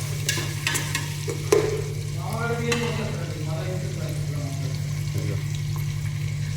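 Onions frying in a pan for vegetable biryani, giving a steady soft sizzle with stirring scrapes and occasional clinks, while someone speaks over the cooking and a low hum runs underneath.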